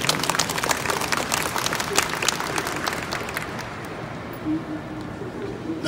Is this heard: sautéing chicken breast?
no